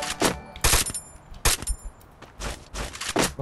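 Gunfire rattles in Garena Free Fire: several loud bursts of rapid shots, each a cluster of sharp cracks, arrive in quick succession with brief gaps between them.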